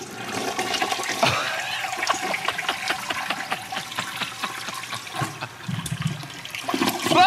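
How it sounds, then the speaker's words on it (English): A toilet flushes with a loud, steady rush of swirling water lasting several seconds, then gurgles and trickles as the bowl refills. "Flush it."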